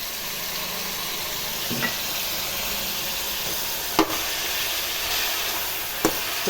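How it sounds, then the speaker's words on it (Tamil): Brinjal and green peas sauté in a hot pan with a steady, fairly loud sizzle, broken by three sharp knocks of a spatula against the pan. "கத்திரிக்காய் அரிஞ்சு வச்சுக்கிறோமா, ஒரு 2 காய், பச்சை பட்டாணி ஊற வச்சுக்கிறேன், இதிலே போட்டு வதக்கலாம்"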